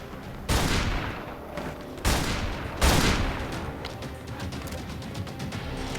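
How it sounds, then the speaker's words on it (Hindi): Shotgun blasts in the video game Darkest Days: three loud, sharp booms spaced a second or so apart, each trailing off into a rough decay over a busy background of game noise. "कौन बोला शॉट गन अच्छा नहीं है भाई"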